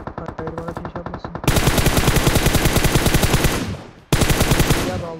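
Automatic gunfire in the PUBG Mobile video game comes as long, rapid, loud bursts of close shots. Fire starts lighter, then intensifies into a heavy sustained stream, stops abruptly, and resumes after a brief gap.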